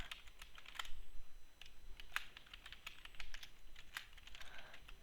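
Quiet, rapid keystrokes patter on a computer keyboard, an irregular run of light clicks and taps at close range with no talking, steady and soft throughout.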